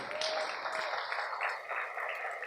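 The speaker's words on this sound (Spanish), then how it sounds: "Denle un aplauso a Cristo que Él vive, aleluya." A church congregation applauds during a sermon with steady, dense clapping from many hands that holds at a moderate level without pause for a couple of seconds.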